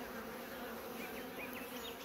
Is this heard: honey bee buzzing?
yes